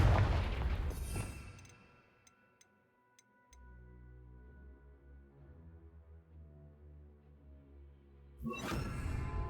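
A Confringo blasting spell explodes in Hogwarts Legacy: a loud burst at the start, a quiet stretch with faint ticking, then a low rumbling tail and a second heavy blast near the end.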